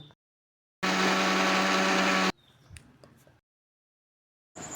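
A kitchen mixer grinder whirs loudly and steadily for about a second and a half while grinding soaked dal and rice, then cuts off, followed by faint clinks and rattles of the jar.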